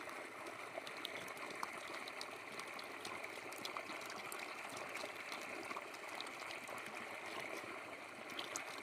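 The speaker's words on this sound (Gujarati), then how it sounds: "આપણે પહેલાં પાણીથી ભરી દઈશું" Water is poured into a flower pot filled with soil, making a faint, steady trickling rush that continues evenly without a break.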